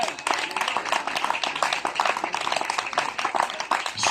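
A church audience claps and cheers to welcome their pastor, a lively, uneven burst of hands mixed with scattered voices and shouts, loud and close for several seconds.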